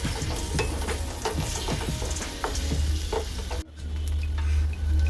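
Chilli chicken being stirred with chilli sauce and tomato sauce in a hot pan, steady sizzling with scraping spatula strokes, then a brief break followed by louder, even sizzling.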